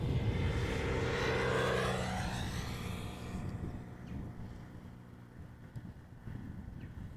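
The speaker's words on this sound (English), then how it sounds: "behind it is going to be a 777-300ER, arriving from Atlanta, Georgia" A Boeing 777-300ER airliner from Atlanta arriving at Amsterdam Schiphol Airport, its loud jet roar sweeping past and then fading into a low distant rumble.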